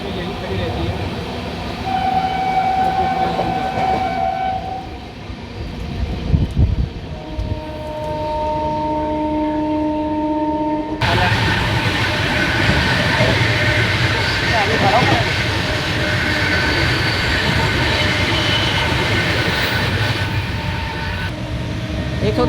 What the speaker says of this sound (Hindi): Shri Ganganagar Delhi intercity express, superfast express.